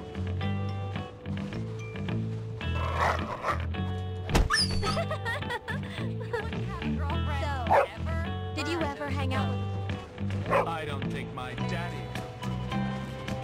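In the video game Bully: Scholarship Edition, a dog barks, yips and whimpers in repeated bursts over a steady, tonal game soundtrack, with other game sound effects mixed in.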